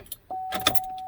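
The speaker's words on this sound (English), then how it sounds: "I'm going to cycle the key." A short jangle and click of a key in the ignition of a 2011 GM truck, followed by a steady electronic chime that holds to the end.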